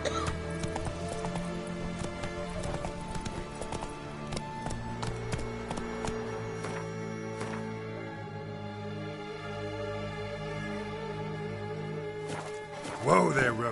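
Hooves of the horse Roach drum in a rapid galloping clip-clop in The Witcher 3, with game music tones underneath and a brief spoken line near the end.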